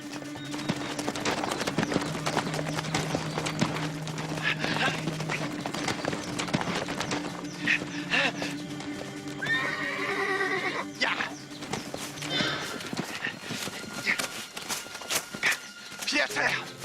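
Horses in a Shaolin martial arts film whinny and clatter with hooves, the neighs rising loud in the middle amid galloping and footfalls, with shouting voices in between.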